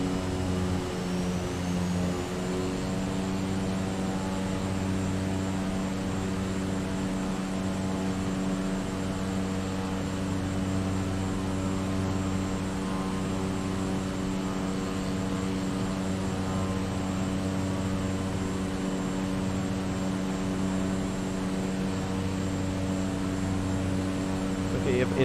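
Regional jet engines in Microsoft Flight Simulator spool down from a higher pitch in the first few seconds, then settle into a steady, droning whine with a constant tonal hum that holds for the rest of the clip.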